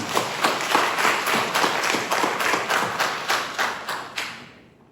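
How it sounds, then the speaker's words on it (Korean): A church congregation at Sunday worship claps in unison to bless a member, each clap strong and regular in a steady rhythm that slows and fades out at the end. "우리 뜨겁게 박수로 축복합니다"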